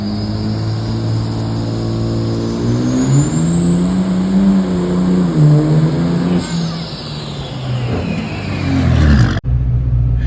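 A tow rig truck launches down a drag strip, its engine revving up and pulling steadily for several seconds, loud and close, before the sound cuts off abruptly near the end.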